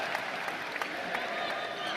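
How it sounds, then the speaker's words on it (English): Spectators at a men's foil team fencing final at the world championship in Moscow applaud in a brief, steady, moderately distant burst, a continuous crowd clapping with a murmur of voices mixed in. "And a round of applause for his sportsmanship"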